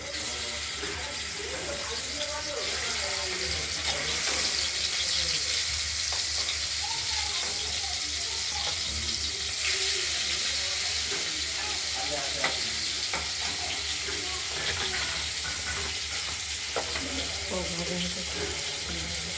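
Katla fish coated in salt and turmeric fries in hot oil, giving a continuous crackling sizzle with sharper spits and pops throughout, close and steady.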